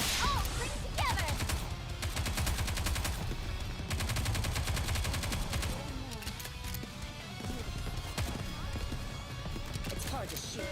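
Gunfire in the NIKKE Goddess of Victory video game, a dense rapid stream of shots clattering continuously over busy game music and effects, loud and sustained throughout.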